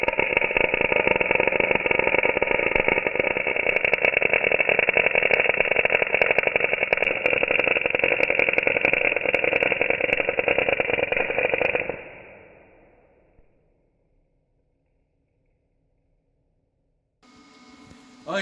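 Steel is welded under shielding gas with no pre-heat. A steady, loud, close buzzing crackle runs unbroken for about twelve seconds, then stops and falls to near silence before a short clatter near the end.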